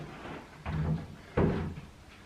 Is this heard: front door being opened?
yes